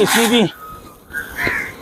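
Crows cawing as a flock gathers to eat food offered to birds outdoors, one loud harsh caw up close at the start followed by fainter calls and ambient noise.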